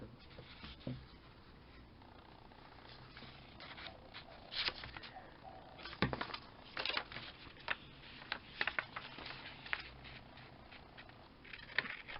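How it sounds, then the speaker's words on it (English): Heavy rain pours down in a steady, dense patter, with scattered louder taps and splashes rising through the wash of noise over about twelve seconds, and no talking. "I don't know whether you can hear the rain, but just absolutely pouring down"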